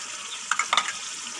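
Tomato paste hits frying meat curry in a pan, giving a soft steady sizzle with a few brief stirring clatters midway, no talking.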